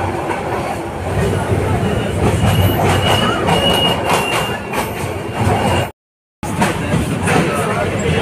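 The Cox's Bazar Express train running from Dhaka, heard from inside a carriage as a loud continuous rumble with rattling wheels and faint squeals, broken by a brief dropout.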